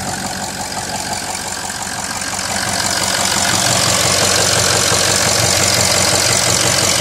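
A 6.0 Power Stroke diesel idles rough and loud after a cold start through an MBRP 5-inch turbo-back straight-pipe exhaust, its clattering rumble swelling louder partway through and holding steady to the end, with no talking.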